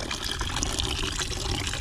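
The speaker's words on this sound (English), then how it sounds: "I need to drain this water barrel." Water drains from a storage barrel into chicken drinkers at a hoop coop, a steady, close pouring and gushing stream that runs unbroken throughout.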